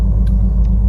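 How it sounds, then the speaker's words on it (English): A truck comes up behind on the road, heard as a loud, deep, continuous rumble close by, with a couple of faint short clicks over it and no speech. "There's a truck coming up behind you"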